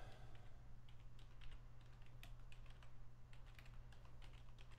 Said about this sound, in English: He's typing furiously.